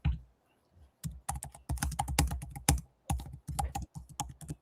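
Rapid clicks of a computer keyboard being typed on, close and fairly quiet, in irregular bursts with short pauses.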